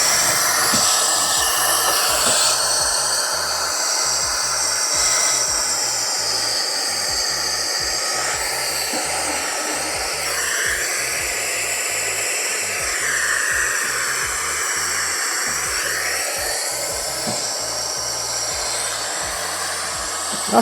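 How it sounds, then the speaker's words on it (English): An air duster blower used as a workshop vacuum cleaner runs continuously, a loud, steady high-pitched whooshing whine with slight changes in pitch as it sucks up small debris, alone without talk. "So what I'll do is to actually try it as a vacuum cleaner."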